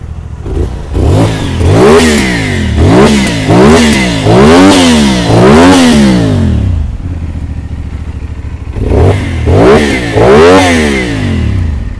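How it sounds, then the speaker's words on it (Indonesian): A black CFMoto 450SR fitted with an Akrapovic full exhaust system revs repeatedly at a dealership, sharp rising and falling blips of a loud, close engine with a short idle gap before more revving. "Okay, ini bunyi full system Acra lah."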